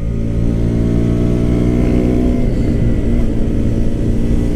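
A 2017 KTM Duke 125 on stock exhaust runs loud and close in a sustained buzzing drone that rises and falls gently in pitch as the rider holds and rolls the throttle.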